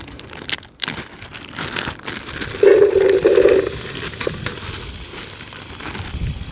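Onions go into a large Trangia billy over a camp stove in a woodland clearing, giving a crackly sizzle with crinkly rustling and a brief louder burst of frying midway, all fairly close and without talk.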